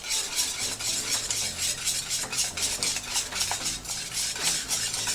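A spoon stirs smoked paprika into a vegan cheese sauce in a pan, giving a steady, rhythmic run of soft scraping and swishing strokes, close and fairly quiet, with no talking.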